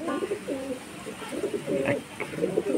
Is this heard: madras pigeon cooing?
yes